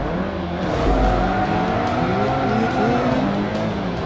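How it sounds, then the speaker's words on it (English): Small race car in Forza Motorsport 3 racing in a pack, its engine revving loudly and continuously alongside other cars, with brief tire squeal mixed in. "Listen to that little car."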